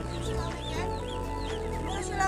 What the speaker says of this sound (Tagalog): Sila may manok niya, Jack.